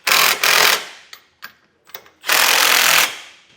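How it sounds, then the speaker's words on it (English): A power impact tool with a 19mm socket tightens trailer hitch bolts while an etrailer hitch receiver is fitted to a 2024 Honda Odyssey, giving two loud close bursts of rattling hammering with short clicks and knocks between them. "we can tighten the bolts down. For the actual bolts here, you can use a 19mm socket"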